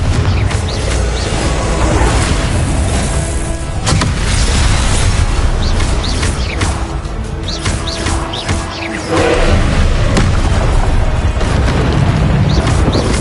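Confringo explosive spells cast in the PS5 game Hogwarts Legacy, heard as loud, continuous booming blasts and bursts among dense combat noise, with no speech.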